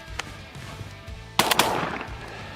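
A Beretta A300 Ultima semi-automatic shotgun fires outdoors: one faint early report, then three loud blasts in rapid succession, each followed by the action cycling, over steady background hiss and rumble.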